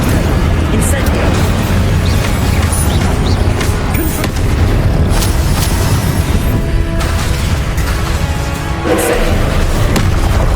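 Fire spells cast during combat in the Hogwarts Legacy video game, a dense, loud run of booming bursts and thuds that barely lets up, while a voice shouts spell names over the din.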